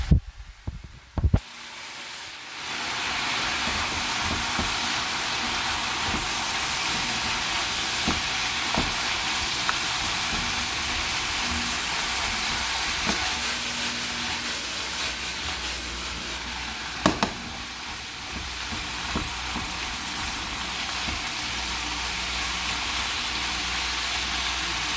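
Cabbage stir-frying in a hot pan gives a steady loud sizzle throughout, with a few sharp clanks and scrapes as the pieces are flipped and stirred.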